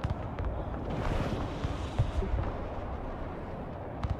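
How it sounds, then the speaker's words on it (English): Artillery shells hitting in the Broken Arrow multiplayer war video game make a continuous rumbling barrage of distant blasts and booms, with a few sharper impacts mixed in. "My artillery's hitting."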